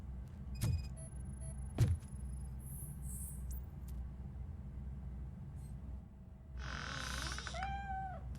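A cat meows in the video game RoboCop: Rogue City, several rising, warbling calls coming late over a steady low ambient rumble, after a couple of sharp earlier thumps.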